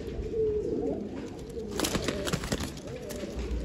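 Domestic pigeons of a sky-tumbler type coo and rustle in a loft, their soft calls close and continuous, with someone talking quietly over them.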